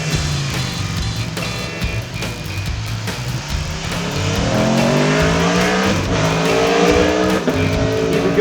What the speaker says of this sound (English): Go then for a lap of COTA over the start finish line, flat out on the Aprilia RSV4.